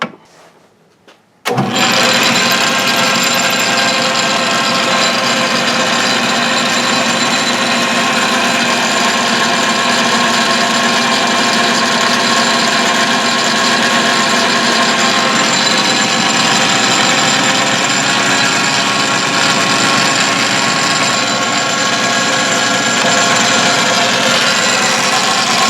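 A cutter on a machine shapes a small part for a homemade model oscillating steam engine, starting after a brief quiet moment and then running as a loud, steady mechanical whir and grind until the end.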